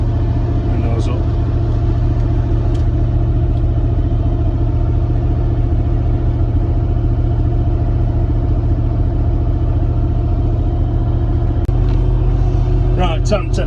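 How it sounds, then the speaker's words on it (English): A V8-swapped Volvo engine idles too high inside the car with the windows up, a loud, steady, rumbling drone that runs throughout, with faint clatter near the end. "I don't know what's going on with the idle. It's still idling stupidly high"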